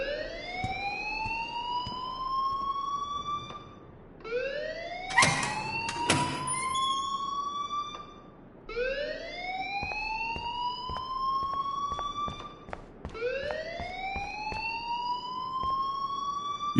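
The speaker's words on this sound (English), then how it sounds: "please turn off that alarm since that's your job." A loud, wailing alarm in Life is Strange repeats as four rising siren sweeps, each climbing and sustained, with a couple of sharp bursts of noise between the second and third sweeps.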